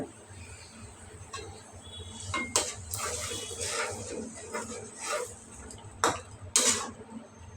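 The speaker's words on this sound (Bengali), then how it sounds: "বলক ওঠার পরে আমি মাছগুলা দিয়ে দিতেছি।" Hilsa fish pieces go into a boiling curry pot of boldha taro, with bubbling and sizzling broken by a few sharp clanks of utensil against the pot, close and moderately loud.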